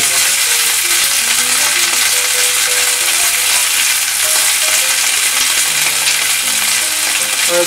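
Napa cabbage stir-fried in oil over medium-high heat for a Chinese-style braise, giving a loud, dense, unbroken sizzle that stays close and steady throughout, with no talking.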